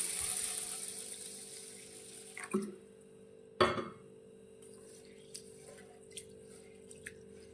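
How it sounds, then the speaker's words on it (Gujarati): Moong and toor dal lentils being washed in water: a steady wash of running water, then two sharper splashes and a few light drips and clinks as the water settles. "હવે બંને દાળને આપણે બે વાર પાણીથી સારી રીતે ધોઈ લઈશું"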